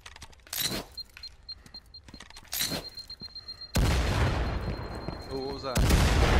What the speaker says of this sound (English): I'm just throwing grenades randomly